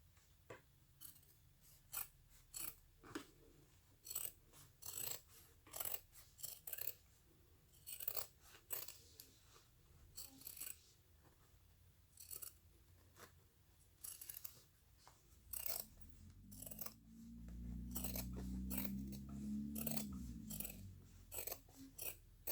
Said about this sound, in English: Flip this over and we'll trim the other side.